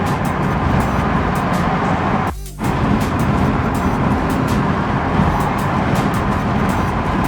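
A car in sixth gear cruises at about 2600 RPM on a hot day, giving a steady, loud road and engine drone from inside the cabin with one brief dip midway.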